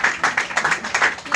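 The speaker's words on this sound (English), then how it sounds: "let's give them a big round of applause" An audience at a forum on Philippine infrastructure development applauds, a brief burst of close, rhythmic clapping.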